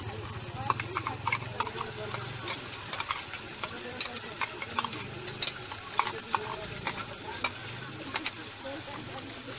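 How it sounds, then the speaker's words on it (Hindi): Ground masala spice paste is stirred in a hot pan for a raw banana curry, with a gentle ongoing sizzle and frequent irregular scraping and tapping of the spoon. "इसे अच्छे से मिक्स कर लेंगे।"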